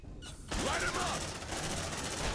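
Rapid automatic gunfire from a squad in Aliens: Dark Descent: a steady, faint-to-moderate stream of shots that starts after a brief quieter moment and continues to the end.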